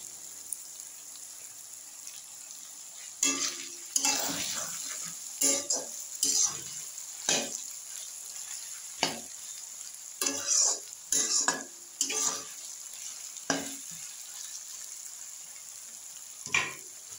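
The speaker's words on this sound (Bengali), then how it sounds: "একটু ভালো করে ভাজতে হবে আদা রসুনটা" Ginger and garlic frying in a pan, a soft continuous sizzle with intermittent clattering stirs and scrapes of a spoon coming in irregular bursts.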